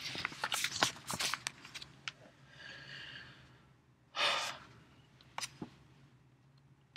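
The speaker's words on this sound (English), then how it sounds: "maybe you can hear me turning the pages through here" Paper pages of a printed code listing are turned by hand, with several close rustles and flaps. Soft breathing sits between them, and a louder sweep comes near the middle.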